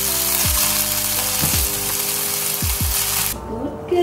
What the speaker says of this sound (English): We just need to saute these ingredients for a while